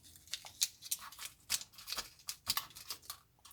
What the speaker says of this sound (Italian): apriamo il sacchetto